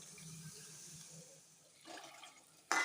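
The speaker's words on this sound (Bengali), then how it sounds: "এবার আমি দিয়ে দিচ্ছি জল।" Water poured into a pan of spiced potatoes for cabbage dalna, a soft faint trickle and splash followed by a sharper sizzle burst at the end.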